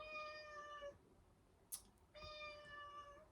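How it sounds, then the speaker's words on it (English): Two bouts of house cats meowing with clear, sustained harmonic calls, the first lasting nearly a second and the second longer after a short pause, fairly close and steady in loudness with a brief sharp click between them. "so please excuse the cats."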